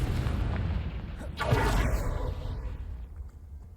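A Confringo fire spell blast in the wizarding game Hogwarts Legacy, a muffled boom with a whooshing burst over a dense rumbling game background, swelling briefly in the middle.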